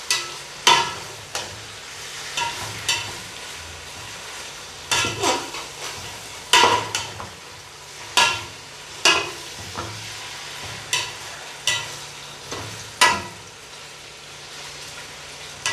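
Chicken is stirred and fried in garlic-ginger masala for a chicken and daliya biryani, with a spoon scraping the pot in regular strokes every second or so over a soft, steady sizzle, close and clear with no talking.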